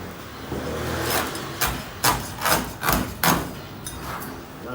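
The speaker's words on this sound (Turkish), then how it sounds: "Şimdi birazdan keseceğim. Kalkanı güzelce. İlkten şu kuyruk kısmından başlıyorum." A knife slicing through a turbot, starting at the tail and working along the sides, gives a series of separate scraping, chopping strokes, roughly five or six in a row, close and moderately loud with a low background hum.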